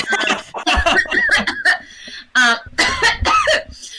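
A few close, sharp coughs in quick bursts, mixed with breathy, voiced sounds that edge toward a chuckle.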